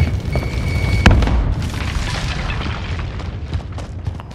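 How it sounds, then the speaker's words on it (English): A grenade blast in Call of Duty: Modern Warfare lands as one heavy, booming explosion a second in, preceded by small thumps and followed by a long rumbling tail and scattered battle noise. "Grenade out!"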